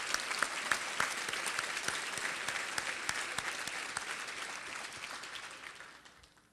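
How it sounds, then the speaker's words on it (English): A county audience applauds its sheriff at a State of the County address: dense, steady clapping from a sizable crowd with sharp individual claps standing out, sustained before thinning and fading near the end. "Let's give him a round of applause."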